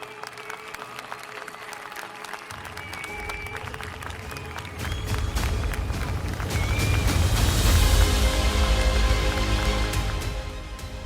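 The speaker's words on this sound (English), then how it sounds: "Please join me in applauding one of the OG MTL FY players" Audience at an awards gala breaks into applause that swells from scattered claps into a full, loud round of clapping, peaking toward the end.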